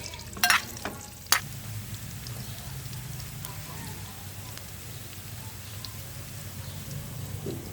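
Onion, garlic and plenty of ginger sautéing in a pan, giving a soft, steady frying hiss throughout with a couple of sharp knocks near the start.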